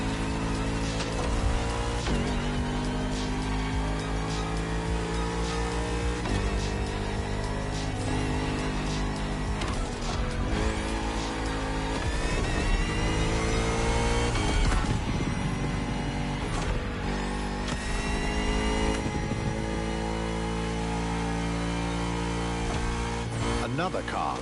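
A Bugatti Vision GT driven in the racing game The Crew Motorfest, its engine loud and continuous throughout, with pitch rising and falling as the revs climb and drop between gear changes.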